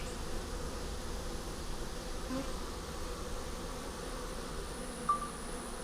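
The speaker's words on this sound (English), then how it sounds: "the bees under the bottom." Honeybees hum beneath the bottom of a long hive, a dense continuous buzz close to the microphone, fairly quiet and unbroken apart from a brief faint click near the end.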